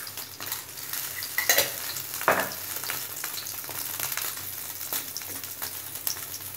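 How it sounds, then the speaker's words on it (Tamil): Mustard seeds crackling and popping in hot oil in a village clay pot, a steady sizzle with scattered sharp pops and a few louder bursts, close and alone with no voices. "பாருங்கள், கடுகு நல்லா புரிஞ்சிருச்சு."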